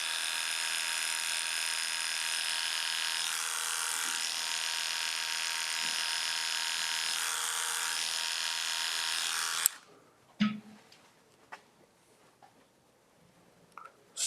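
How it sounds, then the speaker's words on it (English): Electric hair clipper buzzing steadily and close during a square-shaped haircut with a blend, then switching off abruptly, leaving quiet room noise and a few soft handling sounds. "I'm just gonna start raising that end of the clipper up"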